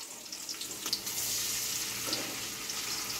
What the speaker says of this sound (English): Now fry them. Add soya sauce.